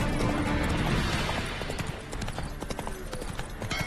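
Hooves of the horse Roach from the game The Witcher 3 clatter in a fast, steady gallop, loud and close against a dense, noisy background.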